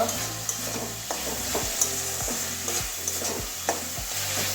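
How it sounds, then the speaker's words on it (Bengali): Capsicum stir-fried in spice paste in a pan for a Bengali egg curry with capsicum and potato, the oil separating: repeated close spatula scrapes come every half second or so over a steady sizzle, with no voices. "ভালো করে কষিয়ে নেব আর মশলাটা একটু আর একটু কষাচ্ছি ক্যাপসিকামটা"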